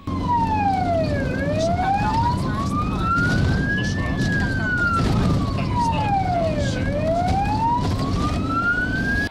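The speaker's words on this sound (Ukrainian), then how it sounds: "ввімкнені проблискові маячки та сирену автомобіля, що поспішає рятувати чиєсь життя" An ambulance siren wails in long rising and falling sweeps while the vehicle drives through city streets in Uzhhorod, loud and steady over the rumble of engine and traffic.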